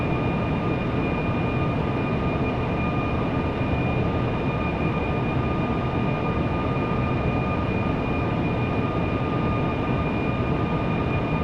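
Steady broadband engine roar of a Boeing 757-300 jetliner in flight in FSX, hand-flown, holding a constant drone with a faint tonal whine throughout and no talk.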